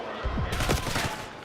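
A quick flurry of pistol gunfire in a Call of Duty match, with a few sharp shots in rapid succession over about a second, loud and close.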